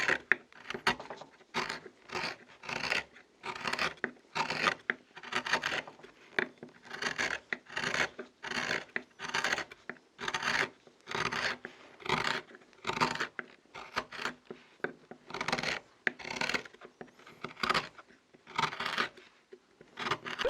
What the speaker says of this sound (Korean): 천비조각도 12개 세트에 들어있는 칼인데 이렇게 깎아 나갑니다